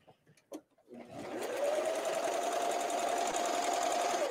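A sewing machine stitches slit sleeves at a shoulder seam, starting after a few light handling taps and then running steadily and loudly at a constant speed for several seconds.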